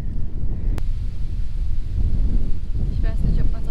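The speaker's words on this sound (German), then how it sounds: "es ist ultra windig" Strong east headwind buffets the microphone of a touring cyclist in Sweden in a constant low roar, with a brief sharp click partway through.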